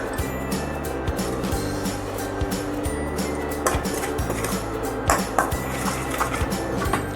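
Jowar flour is dry-roasted in a pan, with soft scraping and clinks of a spatula or spoon against the pan over a steady low background hum. No one talks.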